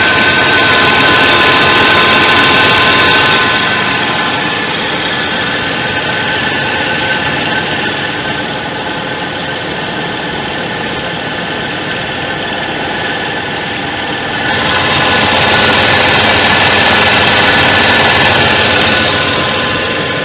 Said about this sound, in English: And the compressor just kicked on, so that's a good sign.